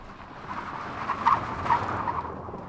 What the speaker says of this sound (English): this three-row SUV has a drift mode